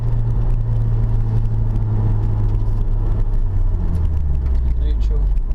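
A 2016 FK2 Honda Civic Type R with a 2-litre turbocharged VTEC engine accelerates hard, a loud, steady low drone with road rumble that holds throughout, heard from inside the car.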